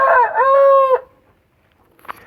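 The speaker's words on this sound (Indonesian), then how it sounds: "Suaranya sedikit berisik sobat, nggak apa-apa, itu ada ayam samping." A rooster crows close by, one loud drawn-out cock-a-doodle-doo lasting about a second, followed by quiet and a brief faint cluck near the end.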